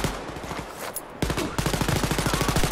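Automatic gunfire in Wolfenstein: Youngblood co-op play, a rapid, evenly spaced machine-gun rattle that grows louder and steadier partway through, close and punchy, with no talk over it.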